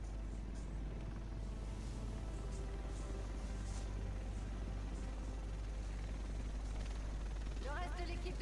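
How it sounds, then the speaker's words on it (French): A helicopter in the video game The Division throbs as a loud, continuous low rumble with mechanical whine, while voices speak over it and a brief rising tone sounds near the end. "Le reste de l'équipe devrait être dans cet hélico."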